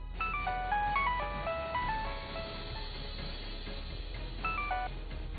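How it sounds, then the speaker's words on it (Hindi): A phone ringtone plays a bright, repeating electronic melody as a call is placed, two short musical phrases a few seconds apart, fairly faint over a low background hum. "वो दिलशाद को फोन मिलाने लगी"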